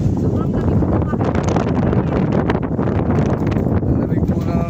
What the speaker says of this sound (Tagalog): Lamig po ng simoy ng hangin.